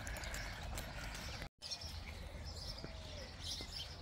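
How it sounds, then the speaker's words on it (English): Pigeons and other birds call from trees in an evening park, faint, scattered chirps and tweets over a soft outdoor background, with a brief dropout partway through. "You can hear the pigeons in the tree and all manner of other birds."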